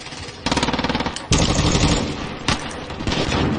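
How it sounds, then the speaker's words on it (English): Gunfire in Call of Duty Warzone: a loud, rapid automatic burst followed by heavier sustained firing and further short volleys, close and dominant with no talk. "I'm getting shot at"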